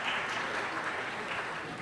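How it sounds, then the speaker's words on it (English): Members of a city council chamber clap for newly confirmed commissioners, a soft, even patter of applause that continues steadily without a break. "Please give them a round of applause."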